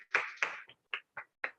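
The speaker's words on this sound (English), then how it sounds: "A warm round of applause." A round of applause from the audience greeting presenters at a climathon finale event, heard as several short bursts of clapping that quickly thin out to a few isolated claps.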